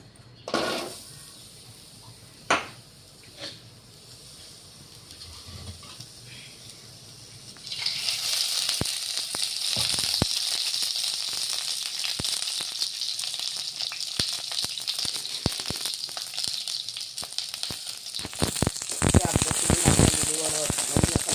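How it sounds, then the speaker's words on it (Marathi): A pan of garlic cloves and ginger roasting, at first quiet with a few clinks, then a steady loud sizzle that crackles continuously close up for the rest of the stretch. "हे दहा ते बारा लसूण कळ्या आणि अद्रक हे भाजून घ्यायचं आपल्याला"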